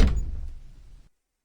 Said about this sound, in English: let's pick up the second key and open up the second door.